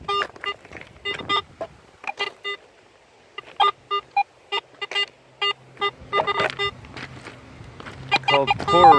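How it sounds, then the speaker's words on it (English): A metal detector sounds a run of short electronic beeps over small chunks of copper in core rock inside the abandoned Quincy copper mine in Michigan. The beeps come in irregular bursts and clusters, near and clear. "all those little beeps you hear is little chunks of copper"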